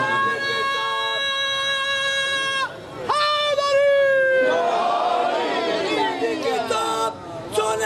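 Audience at a religious majlis gathering chanting a slogan in unison, loud sustained crowd voices rising after a speaker's drawn-out call, filling the space.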